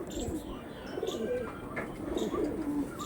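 Pigeons coo in low, rolling throaty calls, several birds close together with occasional faint chirps and rustling.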